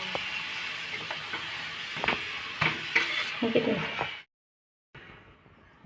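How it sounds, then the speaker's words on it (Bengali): Methi paratha frying in white oil in a pan gives a steady sizzle, broken by scraping and light clinks of a spatula turning it, before a short abrupt silence and the sizzle returns more faintly. "তেল দিয়ে আমি এটা ভাজবো এপিট ডুট করে ভালো করে এটা ভেজে নেবো"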